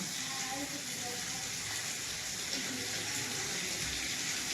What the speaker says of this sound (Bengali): জল ধরতে হবে এখন, জল ধরার জন্য সবাই এখন ছুটবে